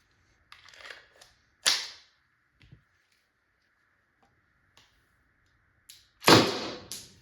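A Byrna SD less-lethal launcher fitted with a lighter valve spring fires a few sharp, separate pops with pauses between them, the last shot loudest, in an otherwise quiet setting.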